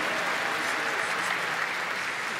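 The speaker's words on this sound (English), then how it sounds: "We'll applaud you over to the piano." Steady, dense applause from a seated audience at a songwriters' circle concert as a performer crosses the stage to the piano, a continuous even wash of clapping with no pauses.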